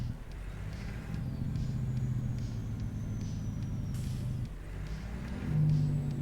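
Heavy truck engine in American Truck Simulator, an underpowered rig, giving a loud steady low diesel drone with engine-brake rumble and shifting pitch as the revs change, continuous throughout.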